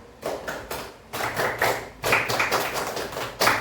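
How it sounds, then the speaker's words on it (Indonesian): Schoolchildren in a classroom do a Pramuka scout clap, loud, sharp group claps struck in short rhythmic bursts of taps. "one clap, kalian tepuk pramuka."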